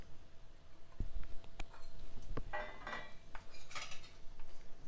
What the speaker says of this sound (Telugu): ఒక 10 వరకు కాజు, ఒక 2 స్పూన్లు పల్లీలు ఇవి వేసుకొని వేయించుకోవాలి.